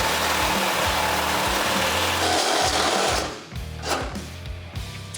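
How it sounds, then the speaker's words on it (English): Steel frame of a Chevrolet C10 truck being cut by a power tool, a loud, harsh grinding buzz with a rhythmic pulsing that eases off partway through, then gives way to lighter scraping. "we can start cutting our frame."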